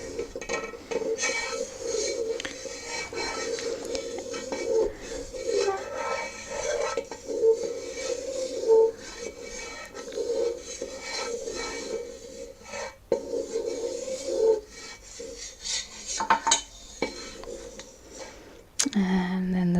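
A spoon scrapes and clinks against a bowl as ingredients for a Thai shrimp dish are stirred together, a close, quiet, continuous mixing sound with a few soft spoken words.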